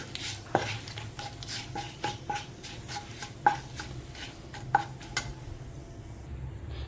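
Whole spices with two bay leaves and a cinnamon stick stirred in hot oil in a pan, a spoon scraping and clinking against the metal in irregular taps over a low steady sizzle, close and fairly quiet.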